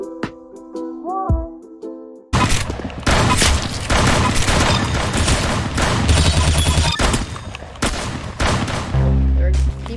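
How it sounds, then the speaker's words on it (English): Rapid automatic gunfire from a battle royale video game, a dense loud fusillade of overlapping shots running almost continuously after a quieter musical opening, with heavy bursts and brief pauses throughout. "Shooting the crap out of rapid fire guns"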